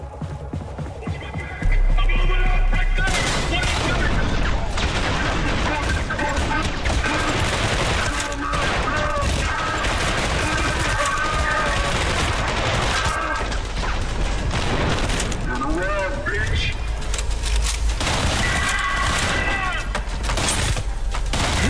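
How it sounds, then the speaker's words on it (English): Guns in the game Tripang 2 fire in rapid, sustained bursts, loud and close, with crashes and mechanical clatter mixed in across the whole stretch. "I'm just shooting everyone."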